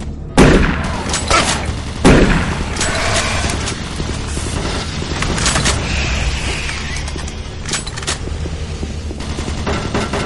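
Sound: automated turret guns firing in the video game DOOM 3

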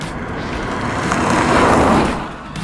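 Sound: 2024 MINI Clubman or Convertible engine under throttle

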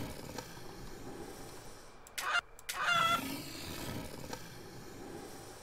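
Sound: chickens in video game Devil's Share

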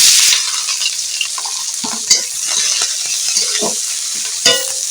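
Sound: onions frying in a pan

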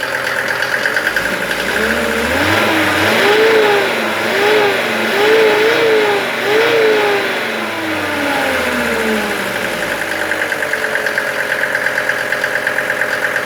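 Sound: diesel engine revving

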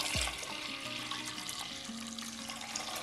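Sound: water poured onto soaked lentils

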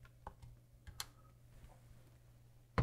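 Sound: typing on TI-74 calculator keyboard

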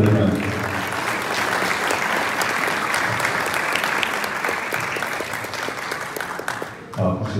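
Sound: applause at a wedding ceremony

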